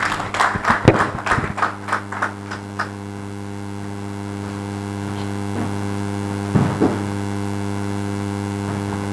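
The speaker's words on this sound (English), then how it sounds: "With a round of applause, let's welcome Dr. Ya Amponsa Chumesi." A small audience at an International Women's Day event claps in a short scattered burst that dies away within a few seconds, leaving a steady electrical hum behind.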